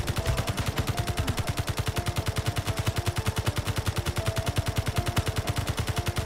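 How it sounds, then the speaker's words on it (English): Sustained rapid automatic gunfire in the video game Space Engineers, a steady, unbroken rhythm of shots throughout, loud and close. "Gunfire! Oh no!"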